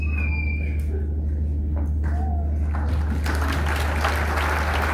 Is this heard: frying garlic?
no